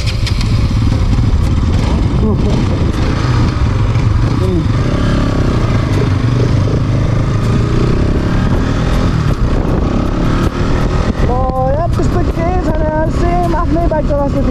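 A Bajaj Pulsar NS200 motorcycle is ridden along a road, its engine humming continuously under heavy wind noise, with a voice talking over it and other traffic passing.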